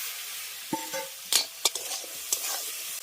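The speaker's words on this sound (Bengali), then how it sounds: "ছোলাটা দেওয়ার পর মশলার সঙ্গে ছোলাটাকে খুব ভালো করে কষিয়ে নিচ্ছি" Boiled chickpeas being stir-fried with spice masala in a pan, with quiet frying underneath and several sharp spatula scrapes and knocks at irregular intervals, close by and without voices.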